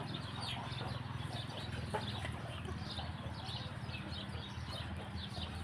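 Chickens cluck and chatter continuously in the background, a busy flock with imported roosters heard at moderate distance under a steady low hum.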